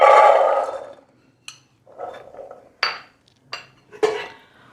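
A spoon scraping and knocking against a metal pressure cooker container while peas are transferred in, with a rustle followed by several sharp, separate clinks spaced out over a few seconds.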